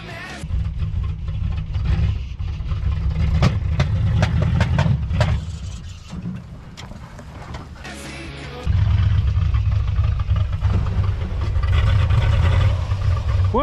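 A Chevrolet ZR2 truck with a failing transmission runs in four-wheel drive while stuck, its engine droning steadily throughout, dipping midway and then rising louder again, with a few sharp knocks over the low rumble.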